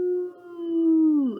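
A voice imitates howling wind during a children's story read-aloud: a single long, steady hooting tone held for over a second, sliding downward at the end, alone.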